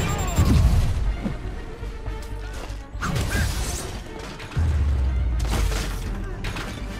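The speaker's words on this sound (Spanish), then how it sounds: "¡Han sacado toda la artillería!" Heavy artillery and rocket booms and crashing blasts in a video game hit in a series, each followed by rumbling debris, with shouting voices mixed in between the explosions.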